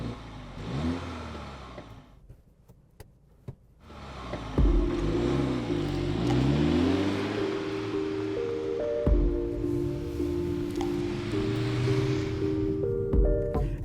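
A 2022 MINI Cooper S Hardtop two-door on the move, its engine note rising and settling through gear changes at a steady, fairly close level with road and wind noise, a quieter idle-like stretch before it pulls away.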